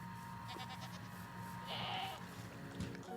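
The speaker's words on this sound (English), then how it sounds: "Somebody has a normal goat sound, and I don't like it." A Minecraft goat bleats over a faint game backdrop, a short nasal cry rising out of the ambient hum, followed by softer rustling movement.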